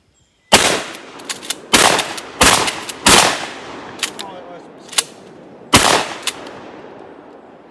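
A shotgun fired outdoors with five different shells and loads, loud sharp blasts spaced unevenly, each followed by a decaying echo, with a few smaller pops in between.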